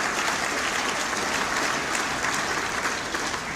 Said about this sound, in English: So I would say let's give NADCO a round of applause